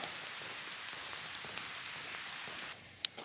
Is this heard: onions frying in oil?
no